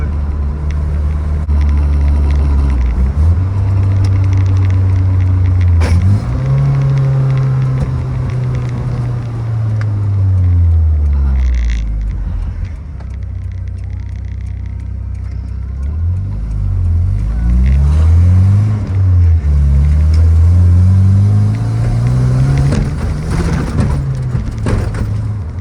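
A drift truck on new shocks travels a very bumpy road, its engine droning and rising and falling in pitch with revs, while thumps and rattles from the suspension come through close and loud.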